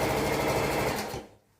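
A sewing machine stitches fabric for baggy pants, giving a close, loud, steady mechanical whir that abruptly winds down and stops near the end.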